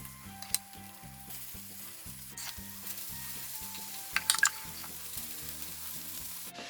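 Steady soft sizzling of beer pancake batter frying in a hot Uzbek cast-iron pan, with a few light scrapes and clinks, close and fairly quiet.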